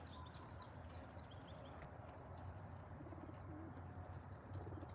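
Racing pigeons coo softly near their loft, low throaty murmurs repeating under a steady outdoor rumble, with brief chirps from small birds early on.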